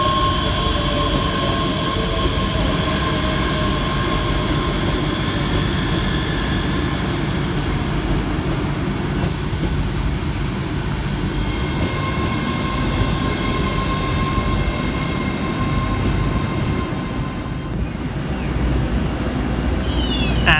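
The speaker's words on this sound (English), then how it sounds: "And departing just next to me, the 1435 LNER Azuma service from London King's Cross through to Aberdeen." An LNER Azuma passenger train leaving Edinburgh Haymarket station on the London King's Cross to Aberdeen service, heard as a loud, steady rolling rumble with droning motor tones and a brief squeal near the end, close by with no talking.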